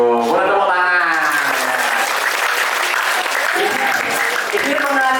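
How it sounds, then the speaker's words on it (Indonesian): Audience applause at an Islamic parenting study gathering, loud and sustained for about five seconds, with voices and a little crowd noise mixed in over the clapping. "Boleh tepuk tangan."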